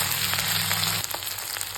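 Chili with ginger-garlic paste hits hot oil over fried onions, giving a loud, dense sizzle with a few stirring clicks, steady throughout.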